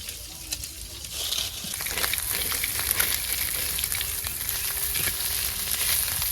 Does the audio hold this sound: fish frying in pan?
yes